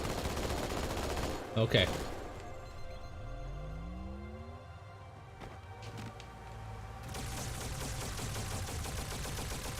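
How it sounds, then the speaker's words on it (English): A turret in the video game Halo fires in a rapid automatic burst near the start, followed by a falling whine and steady game noise, with a brief spoken word. "Look how ridiculously fast this thing shoots"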